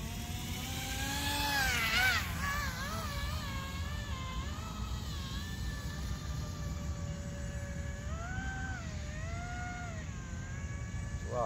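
An MHZ Micro Iceberg RC boat's electric motor cruises at quarter throttle, a steady high whine that rises and dips in pitch over continuous water and wind noise, heard from a short distance.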